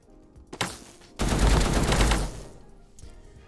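A custom AK gunfire sound in Krunker.io plays as a couple of sharp single shots, then a loud sustained burst of automatic fire lasting about a second, followed by a final short crack.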